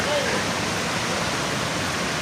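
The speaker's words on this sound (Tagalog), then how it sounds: "Ayan, man-made river." Steady broadband rush of flowing water in a man-made river fed by mountain water at Tala River Park in Bailen, Cavite, continuous and close throughout with no pauses.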